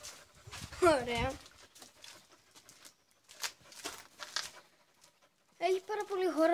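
A dog panting in a spacious home yard with several dogs, including a brown and white pitbull. Soft, quick breathy pants come in short bursts near the microphone, with a voice talking in between.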